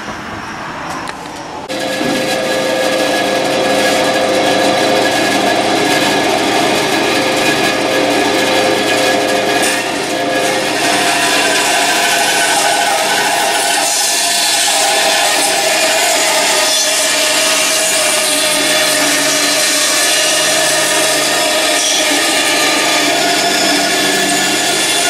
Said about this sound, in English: So what I gotta do is cut out this middle section that actually has some width to it. So I'm gonna do that on the bandsaw.